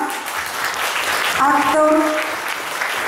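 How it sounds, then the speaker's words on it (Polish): Audience applause at a Polish poetry competition concert, a dense patter of clapping running throughout while a voice speaks over it partway through. "Ogromne brawa."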